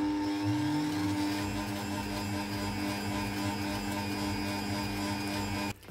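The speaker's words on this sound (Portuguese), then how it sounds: "Agora, com a batedeira em movimento, eu vou adicionando o açúcar aos poucos" An electric stand mixer whirs at a steady high speed while beating chocolate cake batter as sugar is added, a loud, even motor drone that cuts off abruptly near the end.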